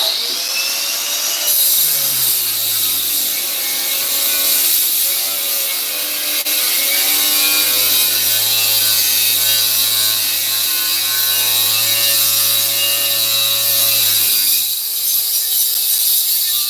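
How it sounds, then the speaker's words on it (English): An angle grinder cuts a piece off a part clamped in a vise in a shed, a loud, steady high whine with harsh grinding running continuously for most of the stretch, pitch dipping slightly as the disc bites. "Taking our angle grinder, getting that piece off right there."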